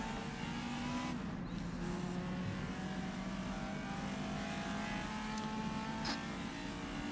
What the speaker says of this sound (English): I love the sound of this Matra.